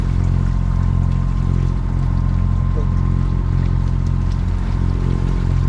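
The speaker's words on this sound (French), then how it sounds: "Par contre pas de vent. Et comme vous l'entendez, moteur." A sailboat motoring in windless conditions off the Balearic Islands, its inboard engine droning as a steady, loud low hum with constant water wash throughout, no voices.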